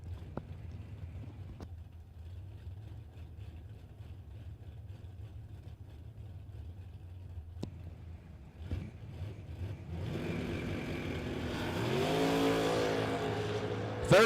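Drag race cars launch at a Mutt and Jeff bracket race, a distant engine rumble idling low before swelling into a loud, rising roar of revving engines as the cars tear down the strip.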